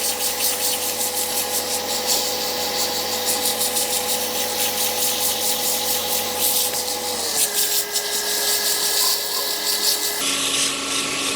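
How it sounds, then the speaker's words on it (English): Sandpaper rubs against a turned Christmas sphere ornament spinning on a lathe, a steady hissing abrasion over the lathe's loud humming drone, which drops in pitch as the speed is lowered. "I get my sandpaper back out. I'll sand this half."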